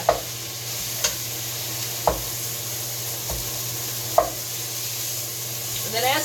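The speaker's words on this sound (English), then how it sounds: "So the meat's still kind of frozen in the middle, so it'll take a little longer for parts of it to cook" Partly frozen ground meat for taco fries frying in a pan gives a steady sizzle, broken by a few sharp knocks and scrapes as a utensil breaks it up, heard up close.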